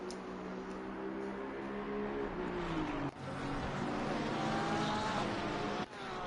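Sim racing cars at Zandvoort in a racing video game, including an Aston Martin, engines droning with rising and falling pitch as cars pass and accelerate down the straight, steady and fairly loud.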